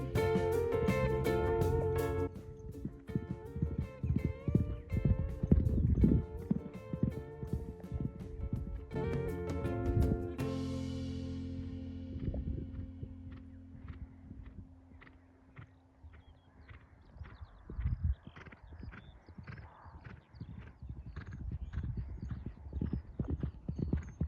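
Horse hooves clip-clop near and distinct while a horse neighs, with loud music at the start giving way to quieter rhythmic hoofbeats at play.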